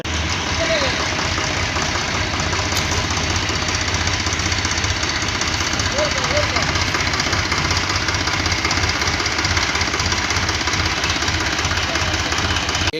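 A tractor engine runs at a steady, loud idle throughout the whole stretch in a rural outdoor setting, with faint voices audible beneath the continuous mechanical rumble.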